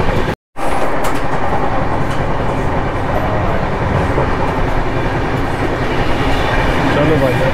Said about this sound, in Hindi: ट्रेनें इतनी पूरी रफ्तार में चलती रहती है